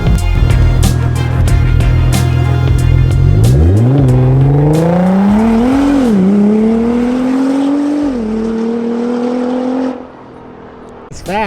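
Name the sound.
widebody Rocket Bunny Nissan GTR engine revving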